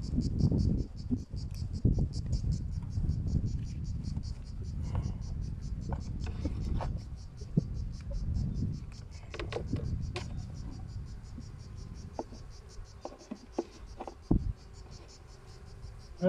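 Honey bees at a hive being readied for new queens give a steady, dense buzz, close and loud, broken by irregular knocks and handling clatter of the hive.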